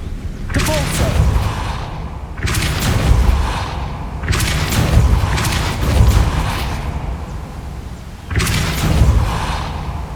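Depulso force spell cast in the video game Hogwarts Legacy, heard as four loud, broad blasting bursts spaced a couple of seconds apart, each a heavy whooshing boom.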